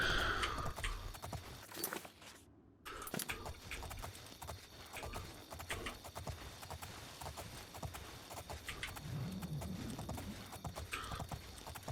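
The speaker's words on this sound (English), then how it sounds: "I actually dislike riding the horse quite a bit, but it's so much faster." A horse's hooves clip-clop steadily while riding in the video game Elder Scrolls IV: Oblivion, a quick repeated trot of hoofbeats at moderate loudness with faint in-game ambience and no talking.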